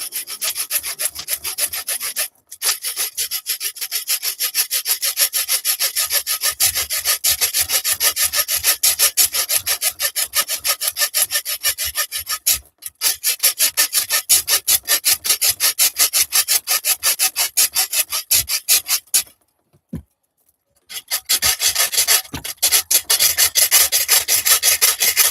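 A small, cheap hand hacksaw cuts with quick, steady back-and-forth strokes, rasping loudly and close, with two short pauses before the sawing resumes.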